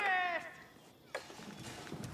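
A sheep in a video game gives a short, wavering bleat, then faint game sounds and clicks follow.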